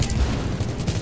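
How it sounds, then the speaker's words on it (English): Gunfire in an online squad video game crackles as a dense, loud burst of rapid shots lasting about a second. "He's shooting me."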